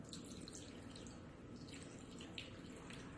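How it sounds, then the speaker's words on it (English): Water pours steadily and faintly into a pot of homemade sauce for about three seconds, a soft continuous splashing trickle with no talking. "we're going to put about 1 cup of water in here"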